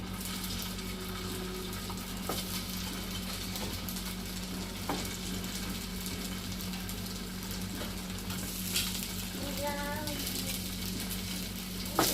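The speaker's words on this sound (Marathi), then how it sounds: "आता आपण हे तेल गरम करायला ठेवलेलं आहे, तर त्याच्यामध्ये आपण हे परतून घेऊया" Sabudana rolls frying in hot oil give a steady, moderate sizzle with a low hum underneath, broken by a few faint clinks and bubbling bursts near the end.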